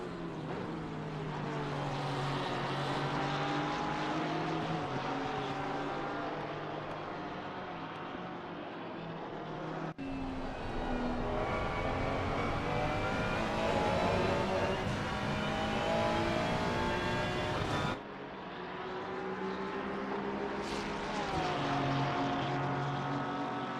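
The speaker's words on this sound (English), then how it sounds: "it looks like a couple of cars getting out of the way very quickly." Racing cars in the Assetto Corsa Competizione sim at Brands Hatch drone steadily as their engines rev and shift, a continuous mid-level roar with pitch rising and falling as the cars pass.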